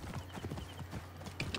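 Horse hooves clip-clop in a quick, steady trot in the Assassin's Creed Origins video game, moderately close and fairly quiet, with a short whinny-like burst near the end and no speech.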